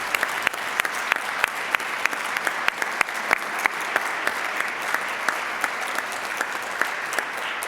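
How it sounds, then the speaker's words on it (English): Steady applause from a Rotary meeting audience, even sustained clapping with a few sharper claps standing out, moderately loud and continuous throughout. "Let's give them another round of applause."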